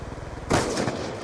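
A single sharp gunshot sounds in the Apocalypse DLC sniping video game. The sudden report comes midway over a low, pulsing background of game noise, with no talk.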